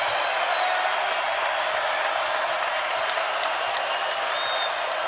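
A basketball arena crowd at an Oregon at Arizona college game roars and applauds continuously, a dense, loud wall of cheering with no breaks.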